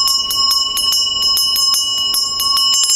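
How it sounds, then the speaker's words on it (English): A traditional Tibetan Buddhist ritual bell rings in rapid repeated strikes, bright metallic tones with sustained shimmering overtones, close and clear with no talking. "So when the bell rings, it blesses everybody."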